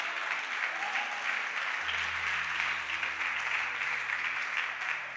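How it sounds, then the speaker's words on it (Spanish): Church congregation applauding during a sermon, a steady wash of many hands clapping at moderate distance, sustained throughout with a low hum underneath. "Dele palmas si es para él"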